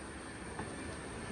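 A Kollam-Thiruvananthapuram passenger train running on a Kerala line, heard as a steady rumbling roar with faint rhythmic wheel clatter, continuous and fairly quiet throughout, with no voices.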